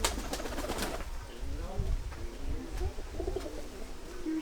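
Pigeons or doves cooing at an eco resort in Kerala, soft repeated low coos close by, with fainter chirps and light background voices of people nearby.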